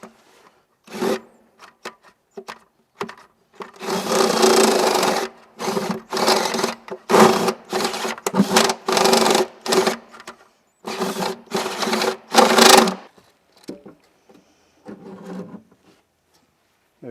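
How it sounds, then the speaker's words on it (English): A cone cutter bores a hole through a camper van wall, its whirring grind starting in short bursts and then running in a string of longer, loud pulses with brief gaps before trailing off. "Next, the cone cutter."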